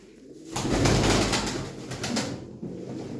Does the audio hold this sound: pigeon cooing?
yes